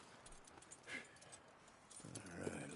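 Horse hooves clip-clopping at a walk in the Red Dead Redemption 2 game world, a faint, quiet rhythm of light hoofbeats against soft ambient background.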